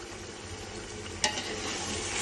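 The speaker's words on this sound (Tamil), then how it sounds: "இப்போ லேசாக ஒரு பக்கமாக இது கலர விடணும்" Chicken biryani with bullet rice being gently stirred in a pot over low heat, a soft continuous scraping and sizzle with one sharp clink of the spoon, fairly quiet with no voices.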